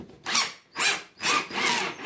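An electric drill's chuck is spun and tightened in a few quick whirring bursts, each rising and falling, close and alone with no talk.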